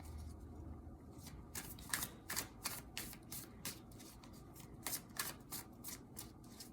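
Tarot cards being shuffled by hand, a rapid run of crisp riffling flicks and soft slaps at close range, quiet and steady with no talk over them.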